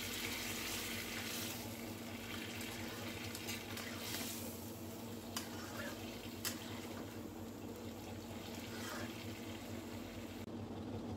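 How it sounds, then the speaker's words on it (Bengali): Boiled pea dal and vegetables fry in oil with a low, continuous sizzle and occasional faint stirring clinks, quiet and steady throughout. "এখন আমি ডালটা তেলে দিয়ে নেব। নিরামিষটাও আমি তেলে দিয়ে নেব।"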